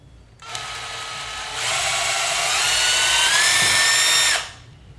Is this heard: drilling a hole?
yes